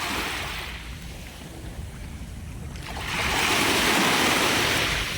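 Waves wash onto a beach on Koh Samui, Thailand, as a broad, hissing surge. It eases off, then swells into a louder, nearby rush of breaking surf, with no talk.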